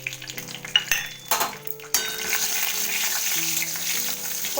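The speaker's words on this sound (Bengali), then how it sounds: "এবার এখানে আমি 2টো তেজপাতা আর একটু জিরে ফোড়ন দিয়ে নিচ্ছি।" Two bay leaves and cumin seeds are tempered in hot oil in a pan, a bright sputtering sizzle that starts in choppy bursts with clattering and then settles into a steady loud hiss, with no voices.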